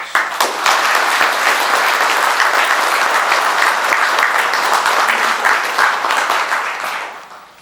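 A crowd at an award ceremony in a Brazilian philology academy breaks into loud, sustained applause, a dense wash of clapping that holds steady for about seven seconds before tapering off.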